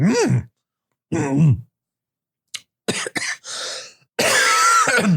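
Several harsh coughs and throat-clearing bursts separated by silences, ending in a long, strained, groaning cough, close to the mic.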